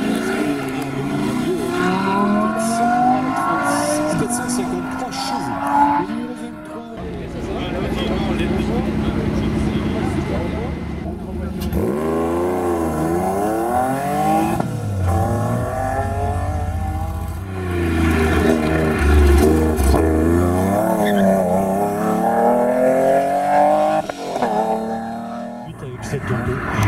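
A powerful 610-horsepower 5-litre V10 sports car engine revs and roars continuously while racing uphill at a hill climb, pitch climbing and dropping through gear changes, loud and close, with a quieter stretch in between.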